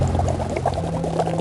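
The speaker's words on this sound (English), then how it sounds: "what's that bubbling up from underground?" Groundwater heated by volcanic activity bubbles and gurgles up from underground in a steady, close churning, with no voices over it.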